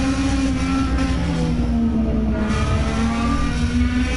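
Onboard engine of the number 2 car, driven by Andrews, three laps into an AOWS race at Circuit of the Americas: a loud, steady drone with a sustained tone held close and continuous throughout.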